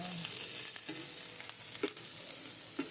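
Garlic sautés in a non-stick pan with a continuous, even sizzle. A few soft stirring scrapes come through now and then, close and moderately quiet, with no speech.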